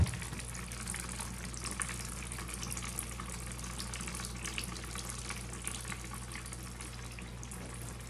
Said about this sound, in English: Let's water it again.